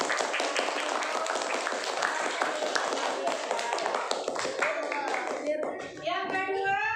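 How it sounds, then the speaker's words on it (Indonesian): Students in a classroom clap for a group after its presentation, steady rapid applause throughout with children's voices chattering underneath and rising as the clapping fades at the end. "Kalau begitu kita beri tepuk tangan untuk kelompok"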